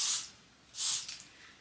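Short hissing hairspray bursts, one brief burst then a longer one trailing into a quick puff, close and fairly soft.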